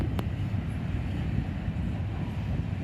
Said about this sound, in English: it's pretty rare to see intermodal going this slow through Oak Harbor here on the old Conrail NYC lakefront line